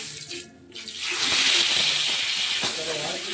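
Fish frying in a pan over an open wood fire outdoors, giving a steady, loud sizzling hiss that swells after a brief dip and holds on, with faint crackle beneath.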